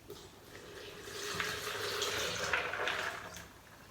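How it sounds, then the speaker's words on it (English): Water is poured into a blender in a short, soft splashing stream that swells and then tapers off over a few seconds, quiet and close with no voices. "now I'll put a little water in it"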